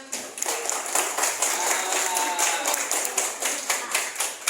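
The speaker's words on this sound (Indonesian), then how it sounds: "kasih tepuk tangan" Students in a primary school classroom clap together in a brisk, fairly even burst of hand claps lasting a few seconds, close and lively with no talking over it.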